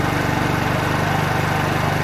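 A 50cc petrol scooter engine runs steadily at high revs while its idle is tuned, giving a loud, continuous, buzzing drone with an even rhythm and no voices.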